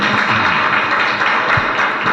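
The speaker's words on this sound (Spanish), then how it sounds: "lo recibimos con un fuerte aplauso" An audience at a lecture on reading Tolkien gives a steady, dense round of applause to welcome the speaker, filling the room evenly from start to finish with no voices over it.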